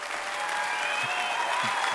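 Dense, steady applause from a concert audience fills the space for a couple of seconds, even and unbroken, honoring a singer after her cover performance.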